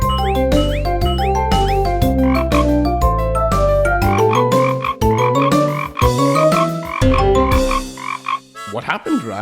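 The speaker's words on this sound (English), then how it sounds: "Why do frogs croak?" Frogs croak loudly and close, a rapid series of throaty calls in quick bursts with short gaps, ending in a few warbling, pitch-sliding notes, alone without talk.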